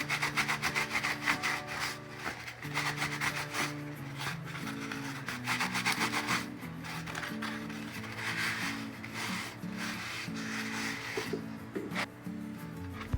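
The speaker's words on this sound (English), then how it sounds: "just gonna rub this a little." Rubbing and distressing a thrifted home decor piece by hand, producing close, rhythmic scraping and sanding strokes in bursts with brief pauses, fairly quiet and without talking.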